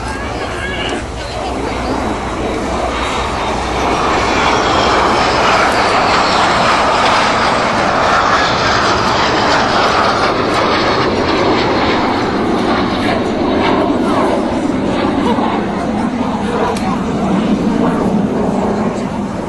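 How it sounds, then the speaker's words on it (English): An Aero L-39 jet trainer, Czech-built, flies past with a loud, sustained roar that swells over several seconds and then holds, while speech is heard faintly beneath it. "Lou McQuaid flying the L-39, manufactured in the Czech Republic, still being made as the L-159, much refined version"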